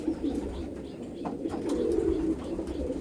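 A pigeon coos close by, soft low throaty calls rolling on continuously.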